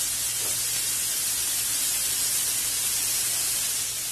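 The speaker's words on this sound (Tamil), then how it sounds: "இப்ப இதுல நம்ம மேரினேட் பண்ணி வச்சிருக்கிற இந்த ப்ரோக்கலிய நம்ம போட்டு கிரில் பண்ணிக்க போறோம்." Marinated broccoli grilling in melted butter in a pan gives off a steady, even hiss and sizzle that stays constant and close, with no talk over it.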